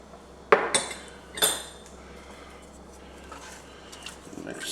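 Spoon clinking against a pan while Cajun seasoning is stirred into pork chop gravy, with a few sharp metallic knocks early on, then softer scraping and stirring over a low stovetop hum.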